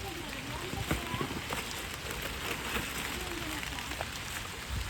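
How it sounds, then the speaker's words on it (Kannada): Rain falling outdoors, a soft, even patter with scattered sharper drop hits throughout, while people talk in the background. "ಮತ್ತೆ ಮಳೆ ಬಂತು"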